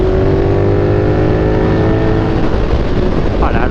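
A KTM 1390 R Evo motorcycle engine drones loud and steady while riding, its harmonic tones rising slightly near the end over heavy wind rush.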